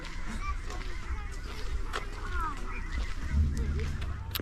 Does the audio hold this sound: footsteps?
no